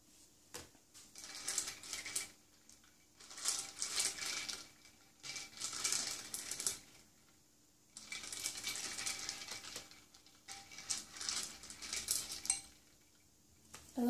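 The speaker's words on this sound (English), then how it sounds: "I love the gentle sounds if I move the glass and the plastic pieces slowly" Glass and plastic pieces stirred slowly through water, giving soft clinking and sloshing in several gentle bursts separated by quiet pauses, close and delicate.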